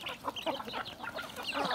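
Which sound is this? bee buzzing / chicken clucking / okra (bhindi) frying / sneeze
chicken clucking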